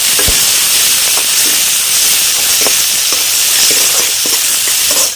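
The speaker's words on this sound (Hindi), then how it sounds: "हरी पत्ते वाली प्याज को भी डाल देते हैं साथ में फ्राई" Green spring onions fry in a pan with a steady, loud sizzle and hiss, broken by occasional clicks and scrapes of stirring, with no voices.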